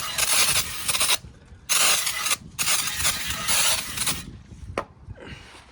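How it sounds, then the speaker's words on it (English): Brake cleaner sprayed onto G35 engine parts during valve cover and spark plug work, in three close, loud hissing bursts separated by brief gaps, then a shorter fainter spray at the end. "now we're going to be taking some brake cleaner to get all of this"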